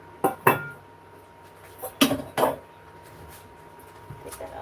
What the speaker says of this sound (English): I'm going to do the chopping.